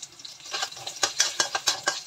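Beef frying in a pan for simple fried noodles, with a steady close sizzle and rhythmic scraping and clinking of a utensil stirring against the pan, no voices.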